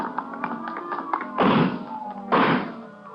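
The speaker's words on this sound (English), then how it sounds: "he broke through the garage doors" Garage doors are smashed through in a Dragnet police radio drama: a few light taps, then two heavy, loud crashing bursts about a second apart over a tonal background.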